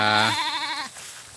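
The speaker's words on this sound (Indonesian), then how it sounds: "Ini ada berapa ratus ekor kambing yang saat ini sedang digembalakan" A sheep or goat gives a single loud, close bleat, wavering and nasal, as a flock of hundreds grazes near its pen on a farm, then the call cuts off into quiet open air.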